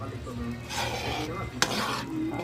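Sweet sticky rice biko, cooked down with sugar and coconut milk, gets stirred in a pot, giving a steady, close scraping and slushing that runs throughout, with one sharp clack of the spoon against the pot near the end.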